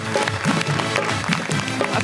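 An audience applauds to welcome guest Maryam Khan onto a talk show stage. The clapping is steady, dense and fairly loud, filling the full two seconds, with no voice over it.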